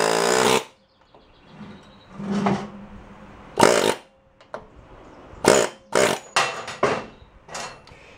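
Pneumatic air tool working on an old rototiller axle, firing in short loud hissing, rattling bursts separated by pauses, up close with quieter clanks between.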